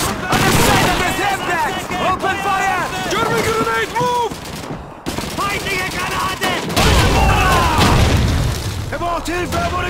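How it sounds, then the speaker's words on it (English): A German grenade goes off amid heavy rifle and machine-gun fire in the World War II shooter Call of Duty 2, loud close bursts mixed with shouting soldiers' voices. "German grenade, move!"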